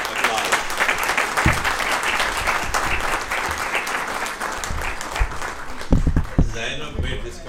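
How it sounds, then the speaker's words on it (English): An audience claps warmly for a surprise guest at a human rights talk, a dense, even round of applause that carries on steadily and thins out near the end, with some speech in the room. "Please give her a warm applause"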